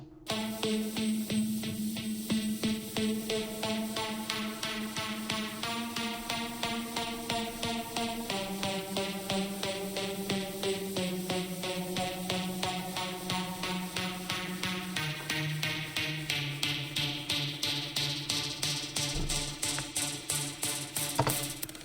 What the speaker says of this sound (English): serum number 2 sounds like this